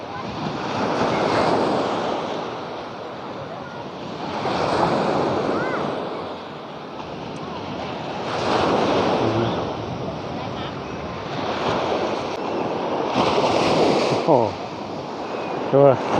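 Surf at Hat Sai Kaew beach in Thailand, waves rolling in and washing up the sand about every three to four seconds in slow surges, with wind buffeting the microphone and a faint boat engine in the distance.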